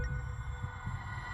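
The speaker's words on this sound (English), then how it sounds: "main storytelling devices, like the heartbeat and the beep" A low, pulsing heartbeat sound effect throbs within eerie horror video game music, with soft repeated thumps under steady sustained droning tones, close and even.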